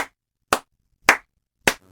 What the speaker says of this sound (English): Coco clapped his hands.